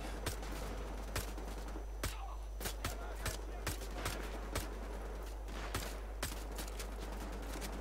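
Gunfire in the video game Wolfenstein: The Old Blood: a steady series of sharp, evenly spaced shots, loud and close, running throughout.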